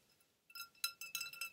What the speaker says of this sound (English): Put the ice cubes in my glass of water.